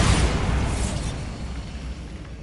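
A Bombarda blasting spell explodes in Hogwarts Legacy with a loud, broad boom that hits at once and then decays into a rumbling, crackling tail over a couple of seconds.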